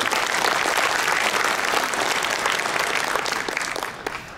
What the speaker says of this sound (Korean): 찬성하신다면 우리 박수로 한번 통과시켜주십시오.